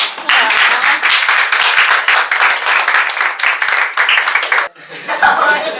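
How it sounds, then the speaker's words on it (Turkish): A crowd bursts into strong, dense applause for about four and a half seconds, loud and close, with laughter mixed in, before it cuts to quieter background sound. "O zaman güçlü bir alkış."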